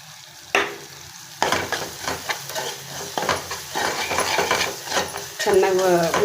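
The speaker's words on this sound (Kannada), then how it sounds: "ಶುಂಠಿ ಬೆಳ್ಳುಳ್ಳಿನೂ ಖಾರನೇ ನೋಡಿ ಇದೆಲ್ಲ ಚೆನ್ನಾಗಿ ಫ್ರೈ ಆಗಿದೆ" Ginger, garlic and chili fry in a pan and are stirred with a utensil, giving a loud close sizzle broken by repeated scraping and clattering strokes, with a brief burst of hissing near the end.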